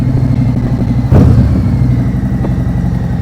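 A motorcycle at low speed with the handlebar turned and the brake locked idles steadily and loudly close by, with one brief clunk partway through.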